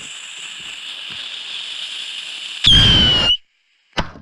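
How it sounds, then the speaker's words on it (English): An M5000 firecracker goes off with a sudden loud, broadband blast lasting under a second and carrying a high whine. A brief silence and then a short sharp crack follow. No one speaks during it. "M5000s are only one firecracker."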